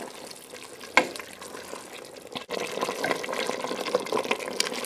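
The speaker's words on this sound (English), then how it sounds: "I'm going to add another cup of water to this" A cup of water pours into a simmering pot of Zuppa Toscana soup, with a knock near the start and a steady close splash and bubbling filling the rest.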